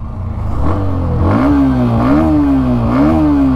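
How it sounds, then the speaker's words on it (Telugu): A 2024 Hero Xtreme 125R motorcycle, 124.7cc air-cooled two-valve engine, revs up several times in quick succession, its exhaust note rising and dipping in a loud, close, throaty burble. "ఎగ్జాస్ట్ సౌండ్ విన్నారు కదా"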